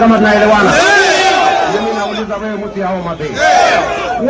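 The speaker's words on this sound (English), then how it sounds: "He's out campaigning and pulling his own crowd." A large crowd at a political campaign rally shouts and chants together, loud and sustained, with waves of cheering rising and falling.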